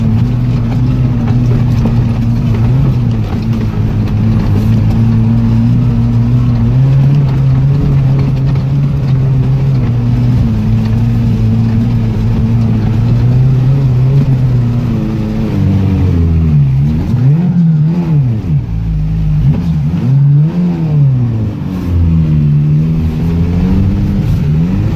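A Toyota off-road vehicle drives through a swampy track and overtakes, its mid-pitched engine droning loud and close throughout, pitch shifting as it revs up and down over rough ground.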